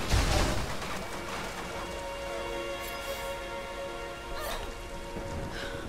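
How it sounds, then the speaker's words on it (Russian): Steady rain in the video game Tomb Raider patters and hisses across surfaces, a dense continuous wash with a brief heavier splash at the start and no voices. "Может, дождь закончится когда-нибудь"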